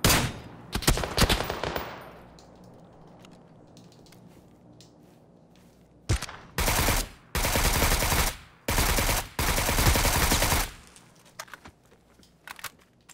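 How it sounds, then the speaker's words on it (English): Bursts of PUBG gunfire on the Sanhok map in an Xbox One duos match: a loud cluster of shots at the start, then several sustained automatic volleys lasting about a second each, separated by short gaps, with fainter pops trailing off at the end. "Getting shot from over here up this that hill up top up there"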